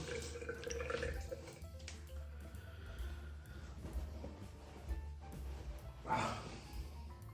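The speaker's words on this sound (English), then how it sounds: "Wash off that residual soap." Running water rinsing residual soap off a titanium single-edge safety razor, the TiGlide S1 from Titaner, a faint steady trickle with light splashes and a brief louder gush near the end.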